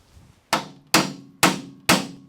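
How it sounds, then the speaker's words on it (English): Four evenly spaced hammer blows strike a metal ski part while a vintage 1974 SnoJet Astro Jet snowmobile is taken apart, each a sharp, ringing clank close by with no talk. "Might be able to just pop that down with a hammer."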